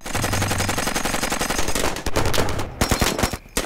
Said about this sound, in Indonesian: mereka langsung mengambil posisi bertahan dan menembaki musuh yang ada di situ.